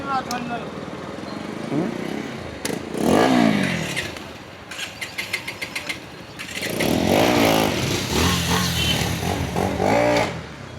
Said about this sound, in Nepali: बाइक त स्टार्ट हुन्छ नि होइन